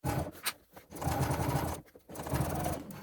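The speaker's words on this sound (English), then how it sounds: "And then just sewing straight along this edge here." A sewing machine stitches straight along a zip edge at about an eighth of an inch, running in steady close bursts with brief pauses between runs.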